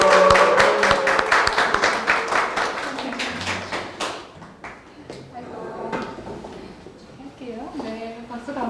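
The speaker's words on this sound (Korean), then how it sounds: "박수 한번 부탁드리겠습니다." A book-concert audience claps for the haegeum player, sharp individual claps thinning out after a few seconds, then scattered taps as a voice speaks.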